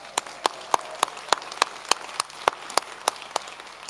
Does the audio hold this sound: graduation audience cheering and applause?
yes